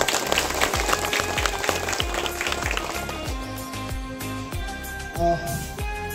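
A crowd at a school Gunotsav event claps for the teachers, a steady patter of many hands under rhythmic music with a thumping beat.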